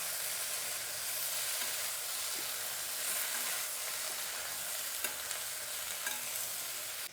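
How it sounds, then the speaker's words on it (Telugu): Sambar with cumin powder and garam masala being stirred in a pan, a continuous soft sizzle with gentle scraping stir movements, close but fairly quiet, no voices. "ఇప్పుడు కలుపుకోవాలండి."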